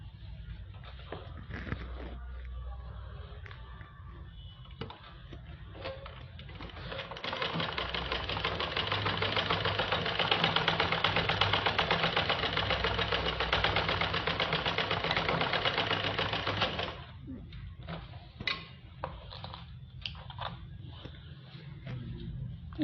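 A sewing machine stitches elastic for palazzo pants, running in a steady continuous whir for about ten seconds in the middle, with quieter handling noises before and after.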